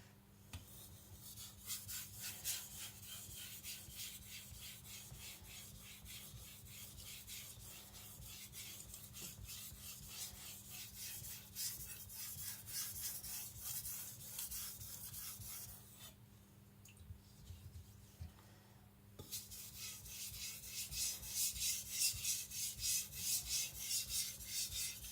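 A Tojiro Shirogami nakiri knife is sharpened on a whetstone, with a steady, continuous rubbing rasp of steel on stone that keeps a constant stroking rhythm, pauses briefly, then resumes louder and close, with no talk.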